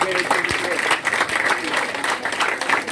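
Students in a classroom debate applauding, a dense burst of clapping from many hands that fills the whole moment, with voices talking over it.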